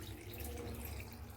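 Water poured or running steadily over dried kurdai to soak them in a kitchen, a continuous close splashing trickle with no talk.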